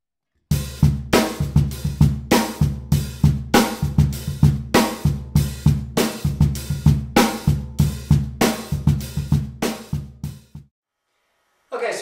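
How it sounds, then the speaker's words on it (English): A drum kit plays a steady, punchy rock groove with tight kick, snare and hi-hat hits, close and alone, stopping abruptly near the end. "the basic pattern I'm going to start with is kind of a funky rock beat"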